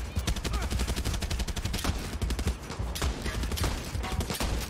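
Rapid automatic gunfire from the video game Far Cry 6, dense loud bursts of shots in quick succession with brief gaps, continuing throughout.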